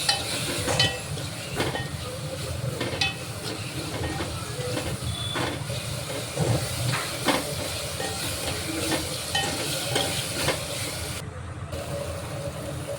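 A curry with spice powder added fries in a pan, making a steady hissing sizzle with light clinks and stirring scrapes throughout and no talking.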